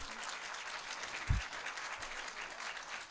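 An audience at the NC Literary Hall of Fame induction ceremony applauds in a steady wash of clapping at moderate distance, with a brief low thump partway through.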